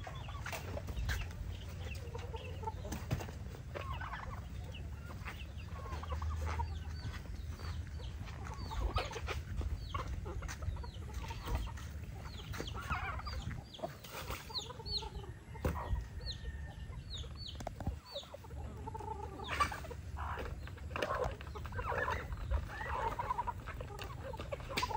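Native chickens cluck and chatter at feeding time on a small poultry farm, soft scattered clucks and occasional calls over a low steady background hum, faint and continuous throughout.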